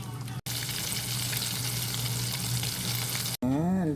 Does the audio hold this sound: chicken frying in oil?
yes